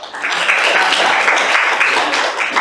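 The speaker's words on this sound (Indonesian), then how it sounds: "Tepuk tangan dulu." Classroom audience applauding together, a steady dense wash of clapping that holds at even loudness for a few seconds.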